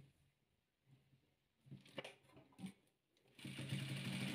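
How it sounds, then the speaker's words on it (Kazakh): A sewing machine stitches pieces of a patchwork heart quilt, starting with a few short, quiet bursts of needle chatter and then running steadily and louder at the end, close with no talking. "Енді тігеміз. осылай тігеміз."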